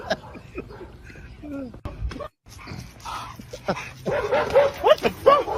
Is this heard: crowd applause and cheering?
no